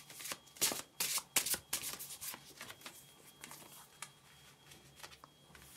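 A deck of oracle cards is shuffled by hand, giving quick papery riffles and flutters in bursts that fade into softer slides and taps, close up and fairly quiet, with no talk.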